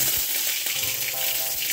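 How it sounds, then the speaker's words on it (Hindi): Mustard seeds and curry leaves sizzle steadily in hot oil, a close, continuous hiss with faint crackles throughout. "तो ये सरसों और कड़ी पत्ता डालेंगे।"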